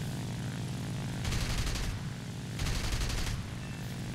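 An FW-190 D-9 in the War Thunder flight game fires its guns at a Spitfire: two loud rapid bursts of about a second each ride over a steady engine drone, with no talk.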